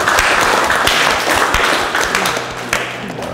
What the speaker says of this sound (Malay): Tepuk tangan untuk Kanda.